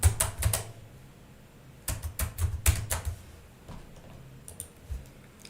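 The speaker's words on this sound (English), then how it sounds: "Just go to browser, just type EDA Playground." Typing on a computer keyboard in quick bursts of sharp clicks, a flurry at the start, another cluster in the middle and scattered taps near the end, close and clear.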